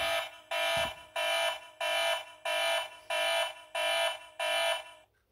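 Home security receiver for an HTZSAFE sensor sounding a loud, high-pitched electronic alarm in eight evenly spaced beeps, each about half a second, then stopping.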